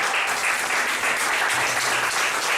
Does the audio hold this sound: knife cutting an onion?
no